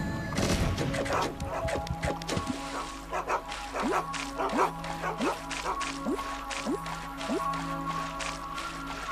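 Dog-like creatures in Oddworld: Munch's Oddysee bark in a rapid run of sharp yips and woofs over steady game music and hum, close and fairly loud, with a brief crash near the start.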